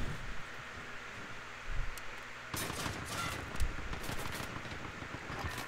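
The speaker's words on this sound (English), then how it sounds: "I'm just blindly shooting into the fucking building" Automatic gunfire in Call of Duty: Modern Warfare: after a quieter opening, rapid bursts of shots start about halfway through and rattle on continuously at moderate, slightly distant loudness.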